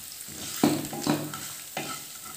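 Green chillies and turmeric sautéing in a pan for a date pickle: a soft, close sizzle broken by three spatula scrapes and stirs.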